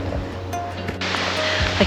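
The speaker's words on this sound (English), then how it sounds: "I can hear water." Water rushes steadily from a stream or waterfall out on a Snowdonia mountain path, a continuous broadband wash with a few brief knocks and rustles near the listener.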